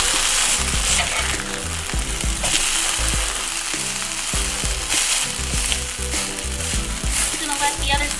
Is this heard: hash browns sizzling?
yes